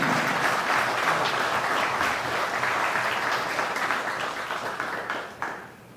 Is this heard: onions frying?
no